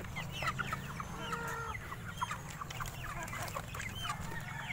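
Shamo and other heritage-breed free-range chickens cluck steadily around a farmyard, several birds overlapping at close to middle distance with a continuous low background rumble.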